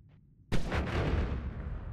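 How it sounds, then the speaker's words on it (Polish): A fireball spell firing in the Noita video game, a sudden loud boom-like burst that cuts in after brief quiet and then rumbles on as a sustained roar. "fires two small fireballs to each trajectory"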